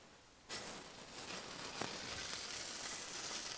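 A salmon fillet drops skin down into a smoking hot pan, setting off a sudden loud hiss that settles into a steady, close sizzle.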